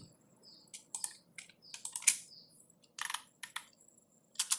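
Computer keyboard typing with bursts of sharp key clicks, including repeated taps as text is deleted, close and fairly quiet with short pauses between bursts.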